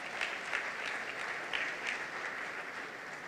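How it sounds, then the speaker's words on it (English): A fairly distant audience at a charity foundation event applauds in a steady, even wash of clapping, with a few sharper claps standing out. "Clap, give yourself a round of applause."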